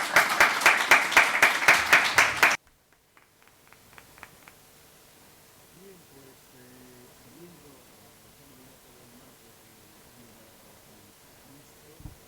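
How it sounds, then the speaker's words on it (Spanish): Loud rhythmic clapping by an audience for about two and a half seconds, a few scattered claps trailing after, then quiet room tone with faint talk in the background. "Eso después de un aplauso."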